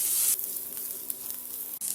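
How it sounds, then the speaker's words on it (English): Finely chopped onion sizzles steadily in a pan over medium heat, a continuous bright hiss that stays fairly loud throughout with a brief dip near the end and no talking. "I have one small onion really finely chopped. I'll add it and then cook it on medium heat till the onions are lightly colored."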